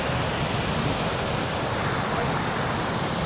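Ocean surf breaking on My An Beach in Da Nang, Vietnam, a continuous broad wash of waves with some wind noise on the microphone, fairly loud and steady throughout.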